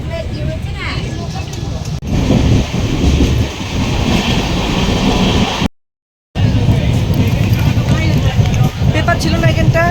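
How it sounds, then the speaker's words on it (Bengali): Kamakhya Puri Express pulling out on its run from New Jalpaiguri toward Puri, with a steady rumble and rattle from the moving carriages and a brief dropout partway through. Voices talk over the train noise. "ফ্রেন্ডস, আমাদের ট্রেন ছেড়ে দিয়েছে, তো আমরা রওনা দিলাম পুরীর পথে"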